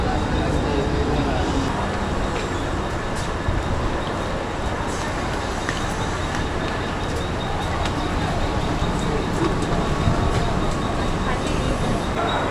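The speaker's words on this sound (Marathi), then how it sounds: "तर ट्रेन आली पनवेल." A train pulling into Panvel station, a continuous loud rumble and rattle of rail cars with scattered clanks and squeals, with voices of people nearby mixed in.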